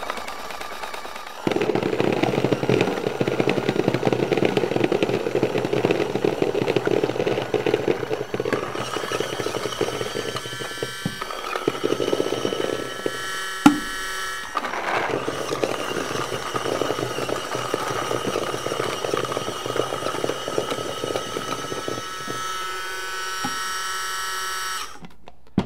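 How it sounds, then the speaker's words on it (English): A Viewloader Force on-demand paintball loader running and feeding reball paintballs, a steady close-up motorised whir with rattling balls that continues for a long stretch, shifting in pitch and briefly pausing before resuming. "Now you can see, you can hear it spinning inside there,"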